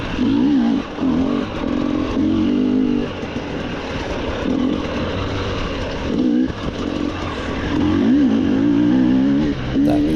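Motocross motorcycle on a dirt track with ravines, engine loud and close, revving hard and continuously with rising and falling pitch as the throttle is worked, no talk over it.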